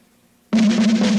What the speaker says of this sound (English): the left hand is doing a lot of buzzing and it's just bouncing off the snare